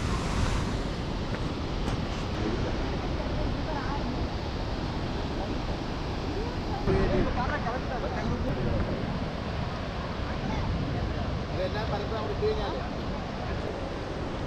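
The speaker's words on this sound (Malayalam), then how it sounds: "വെള്ളച്ചാട്ടമൊക്കെ തീരെ കുറഞ്ഞു" Water rushing steadily at Athirappilly waterfall during a low-flow period, a continuous broadband roar with people talking over it.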